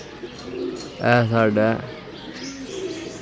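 Pigeons kept on a rooftop give a soft, rolling coo in the middle, close and clear, with someone speaking around it and faint chirps nearby.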